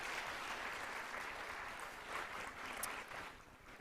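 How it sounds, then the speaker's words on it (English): A crowd at a Dominicans on the Hill gathering applauds a congressman, a dense, steady patter of many hands at moderate distance that holds evenly for several seconds. "Let's have a round of applause for Congressman Espaillat."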